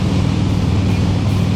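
Heavy wind rushes and buffets past a rider on a Harley motorcycle, with a loud, broad roar and low engine rumble underneath, unbroken for the brief moment.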